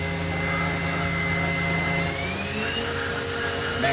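A 2010 Makino a61 CNC horizontal machining center spindle whines steadily with high tonal lines, then its pitch sweeps upward and the level swells briefly before settling again, with no talking.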